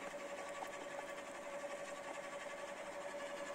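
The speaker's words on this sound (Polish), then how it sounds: "maszyna ją wciąga bez ingerencji człowieka aż do samego końca" A garden wood chipper steadily pulls a tree branch through on its own, giving a continuous loud mechanical whine with a strong steady tone and no pauses, no voices over it.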